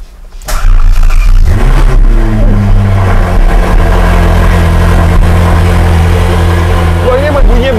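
A car engine fires up after a short crank and settles into a loud, steady rumble with slight revving, while people talk over it.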